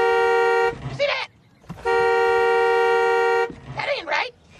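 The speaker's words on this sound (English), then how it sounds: "when I inhale, my titty make the horn honk" A car horn honks twice, each a long steady blare of about a second, close and loud, with a person making short vocal noises in the gaps between the honks.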